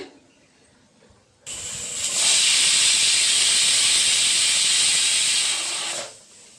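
A pressure cooker boiling taro and potatoes lets off a loud, sustained hiss of steam that starts abruptly, swells, holds steady for several seconds, then fades out, with no voices over it.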